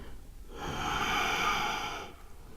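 A slow exhale during a core-focused vinyasa yoga movement, one steady, breathy outflow lasting about a second and a half, close and quiet, with no talking.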